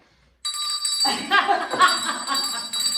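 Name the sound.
ringing a truce bell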